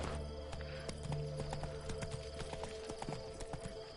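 Horse hooves clip-clop at a steady walking pace from Roach, the mount in The Witcher video game, with regular close knocks over game music and ambient background.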